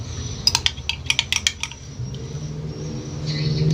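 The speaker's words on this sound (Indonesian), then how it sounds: "setelah itu kita aduk yang rata" A spoon clinks and scrapes against a container while a mixture is stirred, a quick burst of sharp metallic taps early on, then softer rubbing and swishing.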